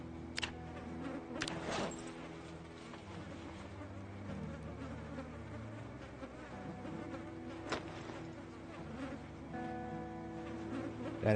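Flies buzz steadily in the video game Project Zomboid, a continuous drone held for the whole stretch and broken by a few sharp clicks and thuds.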